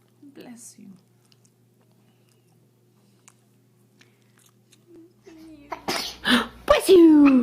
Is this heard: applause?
no